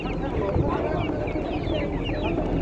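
Chickens clucking and squawking in a dense, continuous chorus at a poultry market in Kyzylorda, with a busy crowd murmur and people talking underneath.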